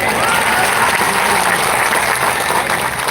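Dense, loud applause from a large crowd at an outdoor political rally, continuous clapping that fills the whole moment without a break.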